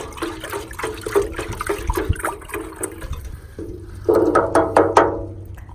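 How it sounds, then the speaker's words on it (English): Water sloshed and swirled by hand as a tablespoon of product is stirred into a gallon of water, a close, continuous churning that grows louder and splashier toward the end, with no talk. "add it to a gallon of water and stir it like so"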